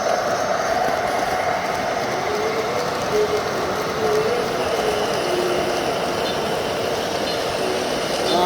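Model trains, a military train and a car train, rumble steadily along the track, a continuous clattering roll with rhythmic clicks, fairly close and loud throughout.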